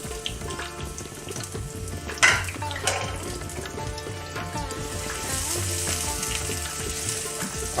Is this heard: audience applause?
no